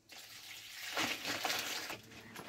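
Water is poured into a vessel for washing freshly caught crabs. After a short quiet start, a steady splashing gush runs close and alone.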